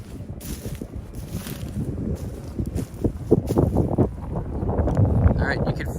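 Wind gusts through an ancient Japanese mountain town, rumbling and buffeting close to the microphone in uneven surges that grow stronger toward the end.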